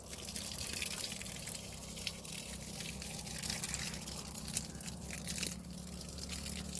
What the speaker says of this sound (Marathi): असं आपल्याला सगळ्या ओळ्यांना पाणी घालायचं आहे